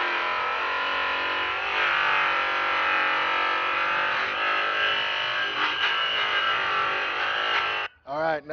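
An aluminum wheel is polished on a buffing wheel charged with rouge, giving a steady, loud, near whirring drone that runs unbroken for most of the span before cutting off briefly near the end.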